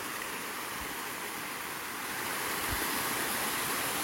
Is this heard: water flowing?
yes